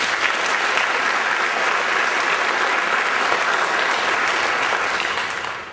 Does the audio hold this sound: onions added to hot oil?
no